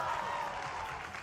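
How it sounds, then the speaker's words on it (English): An audience at a Valorant esports playoff event claps and cheers in a dense, steady wash of applause that holds throughout, with a voice faintly over it. "Give it up for Aspas, everyone."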